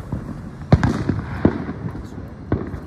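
Fireworks going off outdoors, several sharp booms and crackling bursts spaced over a few seconds, loud and close, with background chatter and voices mixed in.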